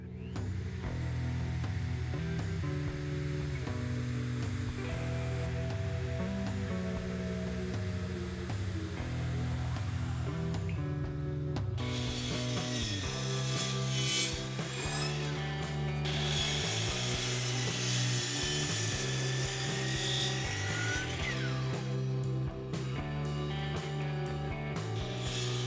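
Handheld plunge router with a 1/8 inch radius roundover bit rounding over corners of end grain wooden coasters, a loud continuous motor roar that shifts into harsher bursts of cutting noise as the bit engages the wood, close and uninterrupted.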